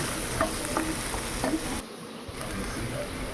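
Onions sauté in a pan for dry fish thokku, a soft continuous sizzle with faint stirring scrapes, low and close, briefly dipping quieter partway through.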